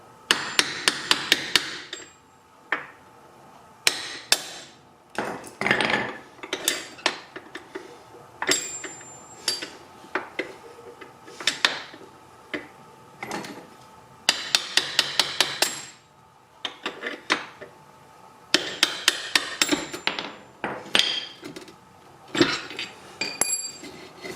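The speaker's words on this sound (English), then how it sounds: "I'm going to bang out the other side now." A hammer bangs out the final drive pivot sleeve of a BMW R1200RT motorcycle, sharp metallic strikes in quick bursts of several blows separated by short pauses, close and ringing throughout.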